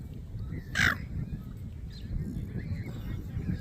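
Crows cawing in Australia while waiting to be fed in the evening: one loud, harsh caw stands out near the start, followed by fainter scattered calls over steady low background noise.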